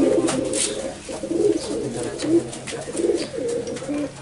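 A grey pigeon coos close by in a low, throaty, repeated pattern, the phrases rolling steadily one after another with no pause in the calling.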